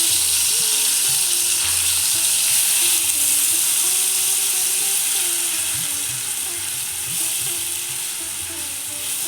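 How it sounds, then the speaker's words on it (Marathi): Two spoonfuls of ginger, garlic and chili paste sauté in a pan for a methi matar malai dish. A loud, continuous hissing sizzle runs through the whole stretch with no talking, easing slightly toward the end. "आता व्यवस्थित आपण परतून घेऊया।"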